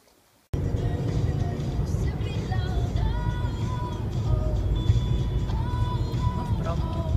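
A car on the move, with a steady low rumble of engine and road noise filling the cabin after a quiet start, and faint tonal whines drifting above the drone.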